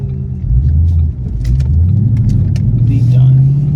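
A Mustang fitted with Flowmaster Super 10 mufflers pulls out of a gas station, its deep, loud exhaust rumble rising in pitch as it accelerates, with someone talking over it.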